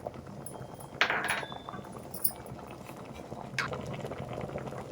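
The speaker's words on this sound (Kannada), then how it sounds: "ಸಾರು ಈಗ ಆಗಿದೆ, ಕುದೀತಾ ಇದೆ" A pot of mixed-greens lentil saaru simmers with a soft steady bubbling hiss, broken by a couple of brief clinks of a utensil against the pot.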